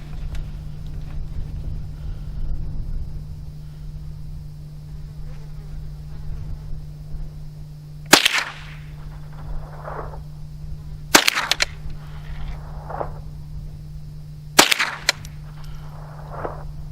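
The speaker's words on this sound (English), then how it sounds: "Shoot 5 rounds of CCI hollow points." Three sharp .22 rifle reports from a Henry AR-7 survival rifle firing CCI hollow points, spaced about three seconds apart over a steady low hum, each crack loud and close with a short decay.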